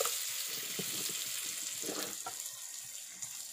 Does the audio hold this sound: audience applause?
no